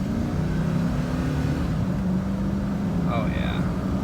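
A 2000 Chevy Silverado Regency pickup pulls out and builds speed, its engine a low steady drone rising gently, with a voice talking over it.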